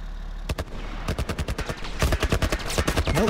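Gunfire in the video game The Last of Us comes as loud, sharp shots, a few single reports at first and then rapid bursts in quick succession, with no talking.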